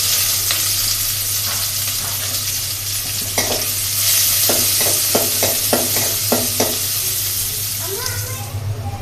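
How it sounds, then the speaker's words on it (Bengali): Onions frying in a pan, sizzling steadily throughout with a series of sharp stirring clicks and scrapes in the middle, a continuous low hum underneath. "পেঁয়াজ তো লাল লাল হয়ে ভাজা হয়ে গেছে"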